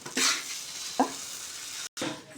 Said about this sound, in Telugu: ఇలా పైకి కిందికి తిప్పుకోవాలి. మాడకుండా కలుపుకోవాలి.